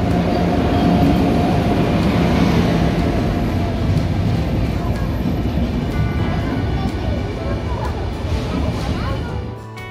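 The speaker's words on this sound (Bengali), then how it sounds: "এই যে দেখো, আমাদের ট্রেন চলে এসছে।" The Darjeeling Mail pulls into a station with a loud, continuous rumble and rattle of wheels and carriages. Platform crowd noise and voices mix in throughout.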